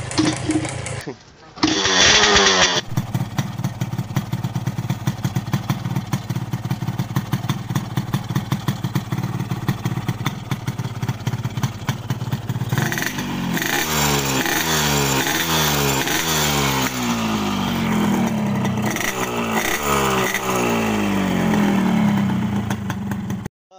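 A Yamaha RX King two-stroke motorcycle engine idles with a rapid buzzing putter, then revs up and down repeatedly in the second half.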